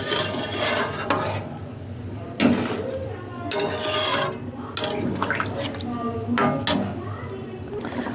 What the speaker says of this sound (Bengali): আমার আলুর দমটা ফুটছে